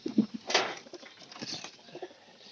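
A pigeon coos close by, a few soft low throaty calls over about two seconds, with a brief rustle or flutter of wings in the middle.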